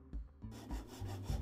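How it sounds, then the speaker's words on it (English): Hacksaw cutting through small pieces for a handmade Han Solo DL-44 blaster prop, heard as a close, repeated rasping push-pull stroke in an even rhythm with no talk. "the hacksaw, trim some of these pieces down so that it looks more like a scope mount."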